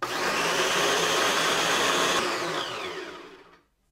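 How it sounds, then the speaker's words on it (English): Food processor blitzing leftover graham wafers into crumbs, a loud steady whirring motor roar for about three seconds that winds down and stops. "We're just going to process this up, chop up all the leftover graham wafers, kind of make a mixture of the 2."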